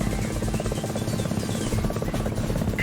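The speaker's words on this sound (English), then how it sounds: "Incoming front. Enemy chopper." Enemy helicopter in the combat flight game Gunship, a steady rotor drone and buzz running loud and continuous throughout with no pauses.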